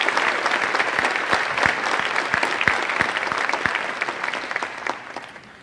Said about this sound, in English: So let's give every single person an applause.